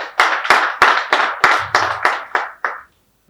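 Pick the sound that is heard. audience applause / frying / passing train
audience applause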